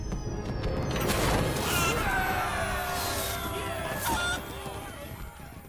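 Birds from a minion summon in a video game honk loudly and repeatedly over busy game sound effects and crashes, the honking fading near the end.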